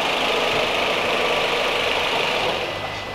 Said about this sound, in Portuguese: Pode ligar o motor aqui pra gente.